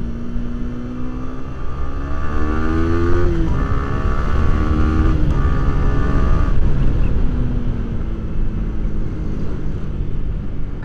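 A motorcycle with assist and slipper clutch accelerating on a road as the throttle opens, a loud close engine roar whose pitch climbs through several gear changes, heard alone without talk.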